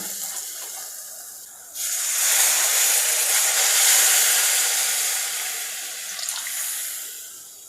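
Water pours into a pan of Tamil-style egg gravy: after a short quiet start, a sudden, steady, rushing splash begins and holds close and fairly loud, then eases off slightly near the end.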